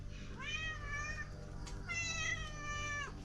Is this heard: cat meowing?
yes